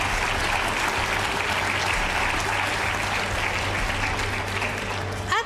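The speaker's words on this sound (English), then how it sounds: "Please give them a round of applause." A large audience at the Dubai Future Forum 2025 applauds warmly, thick continuous clapping sustained evenly from start to finish, loud and close with no talk over it.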